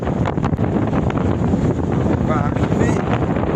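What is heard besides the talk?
strong headwind at sea on a motoring sailboat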